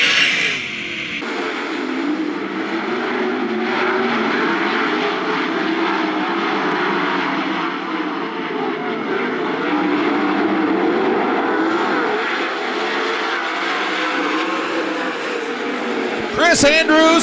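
A pack of 410 sprint cars roars away at the green flag of a heat race at Attica Raceway Park, a loud sustained engine drone that swells and fades, with a track announcer talking over it.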